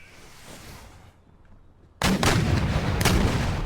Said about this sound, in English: We'll get an idea of how much it sounds from the cannon fire.